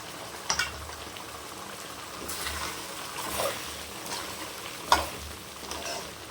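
Chicken curry bubbling in a pan, a soft continuous simmer with a few crackles and stirring clatters, fairly quiet and steady throughout.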